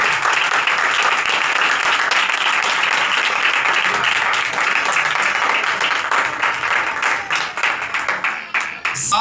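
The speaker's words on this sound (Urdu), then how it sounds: "زندہ کلام کے لیے زوردار تالیاں بجائیں گے۔" Loud, sustained applause from a church congregation at a pastor's service fills the space, dense clapping that holds steady and then begins to thin and break up into scattered claps near the end.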